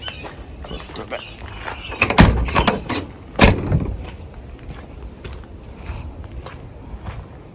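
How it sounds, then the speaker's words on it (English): A truck door is pushed shut, giving a few clunks and a thud near the middle against a background of rustling and movement nearby. "Close the door back."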